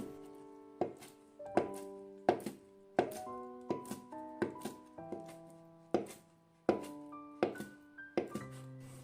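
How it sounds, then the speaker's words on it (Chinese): A kitchen knife chops soaked vermicelli noodles on a cutting board in a series of crisp, irregularly spaced thunks, each close and distinct, with soft tonal music playing underneath. "放下案板上，用刀给它切碎。"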